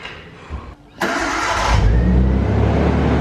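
A Nissan Skyline R34 with an RB25 engine cranks, catches with a loud burst, then settles into a steady, rumbling idle close by.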